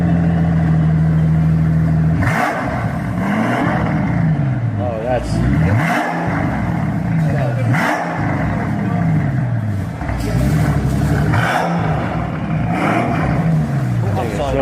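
A car engine revs hard through factory mufflers, loud and close, with repeated rising and falling throttle blips over a steady idle rumble; a voice speaks briefly.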